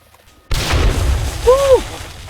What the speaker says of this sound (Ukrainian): Оце вибух.